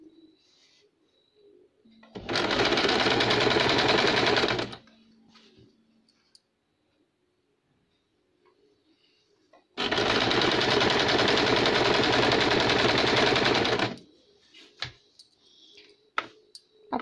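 A sewing machine stitches piping onto a baby cap in two long, loud bursts of steady rapid whirring, each a few seconds, separated by quiet pauses with small handling clicks.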